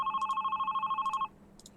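A phone ringing with an electronic trilling bell tone, one ring burst lasting about a second, moderately close and alone before it cuts off into quiet room noise.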